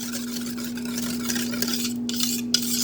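Chocolate pudding ingredients get whisked in a bowl, giving a continuous close scraping and swishing with a low steady hum beneath and a few sharp taps near the end.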